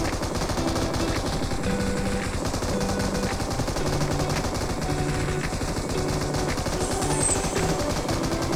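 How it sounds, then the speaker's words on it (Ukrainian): Rapid bursts of video game gunfire crackle continuously, with automatic weapon fire layered over a steady din and no talking. "Він ще досі стріляє."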